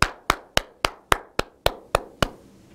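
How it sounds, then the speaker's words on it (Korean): Nine loud, evenly spaced single claps ring out close by, each a crisp sharp slap with a short decay, beat by beat in a steady rhythm like one person clapping during a history lecture. "브라보 박수 한번 주세요 여러분."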